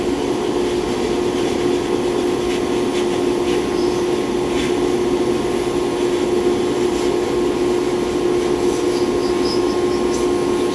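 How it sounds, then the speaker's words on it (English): Bead blasting paint off a 1976 Honda XL175 motorcycle engine part: a loud, steady, continuous hiss and roar of the blasting cabinet with a constant humming drone and no pauses. "Trying to hold the camera and bead blast with one hand"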